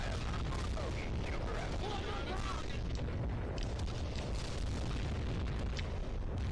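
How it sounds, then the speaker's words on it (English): Loud, continuous rumbling booms of airstrike explosions in a video game, a dense barrage of blasts filling the mix with speech-like voices mixed in. "Where's that airstrike?"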